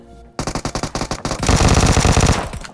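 Rapid bursts of automatic gunfire ring out in a mobile shooter game as enemies are knocked down, starting with spaced single shots and then building into a loud, sustained volley.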